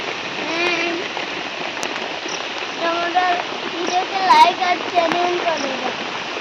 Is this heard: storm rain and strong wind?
yes